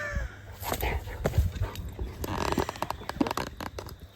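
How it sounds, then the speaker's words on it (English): A single dog barks a few times outdoors, sharp bursts close by over rustling and faint background noise, with a voice briefly audible. "I'd only ever heard him bark a couple of times in his short life."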